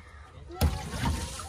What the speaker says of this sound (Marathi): फेकावं पाणी.